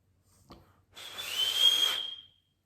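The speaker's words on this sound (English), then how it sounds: "This little brass whistle." A small brass whistle gives one airy, shrill blast about a second long that swells and then trails off, close and fairly quiet, after a brief click.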